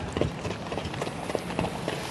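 Quick hoofbeats clip-clop in a steady trot over a busy background, lasting only a couple of seconds.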